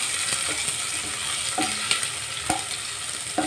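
Chopped tomatoes fry in oil in a wok, giving a steady sizzle broken by several sharp scraping clacks of a spatula stirring them, close up and with no talk.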